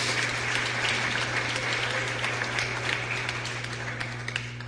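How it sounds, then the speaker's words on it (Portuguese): Church congregation applauding loudly and steadily throughout, a dense wash of many hands clapping over a low sustained hum, fading slightly toward the end. "Pode aplaudir mais forte."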